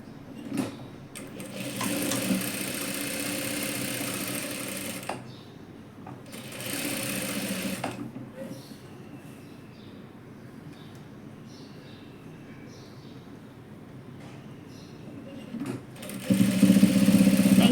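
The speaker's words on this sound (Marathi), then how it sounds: "ज्या आकारात आहे त्याच आकारात इथे असं शिवून घ्यायचं" A sewing machine stitches lining fabric in bursts of fast, buzzing runs, with pauses between them, close by and fairly loud.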